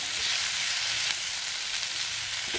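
Tomato and onion masala with garlic sizzles and fries steadily in a pan, a loud, even crackling hiss heard close up with occasional soft stirring scrapes.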